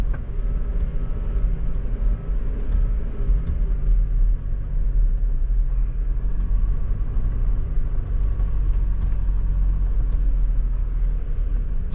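A 4WD creeps slowly along a rough off-road sidetrack near Mt Studholme, its engine giving a steady, low, continuous rumble close to the microphone, with faint knocks and no speech.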